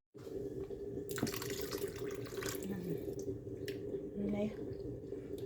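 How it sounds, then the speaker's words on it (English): Water splashes and trickles into a pot of rice up close, with a brief clatter and soft sloshing over a low background hum. "I'll add a little bit of water to it."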